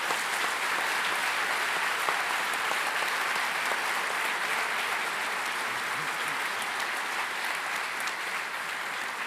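Applause from a theatre audience in memory of someone at an awards ceremony, a sustained, even wash of many hands clapping at moderate volume for the whole stretch, with no talk over it.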